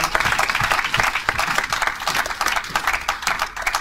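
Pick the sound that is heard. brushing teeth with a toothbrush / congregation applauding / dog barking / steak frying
congregation applauding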